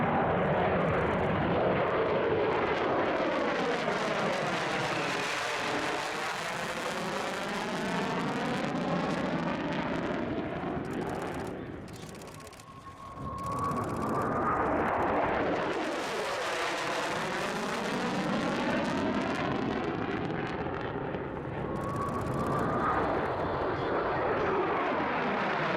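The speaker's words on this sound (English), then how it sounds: "the swing-wing B-1B Lancer, earlier variants of which could reach an incredible top speed of Mach" A swing-wing B-1B Lancer bomber jet flies past at the EAA AirVenture Oshkosh 2017 airshow, a loud roaring pass whose pitch sweeps through the clip, with a brief dip midway and the roar swelling again, no voices.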